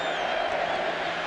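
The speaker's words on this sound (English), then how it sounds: "Now the crowd starts chanting Barry." A football stadium crowd at a 1993 Packers vs Lions wild card game chanting the name Barry, a dense continuous roar of massed voices filling the whole moment, loud and steady.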